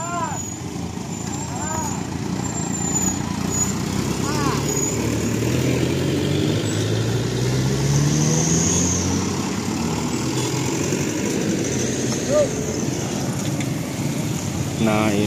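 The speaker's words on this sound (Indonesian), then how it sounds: "Sudah banyak kendaraan yang tertahan." Cars and trucks idle and creep in a long jam on the road between Banjar and Ciamis, held up by an overturned garbage truck; a continuous engine rumble with passing drones fills the scene, and voices can be heard.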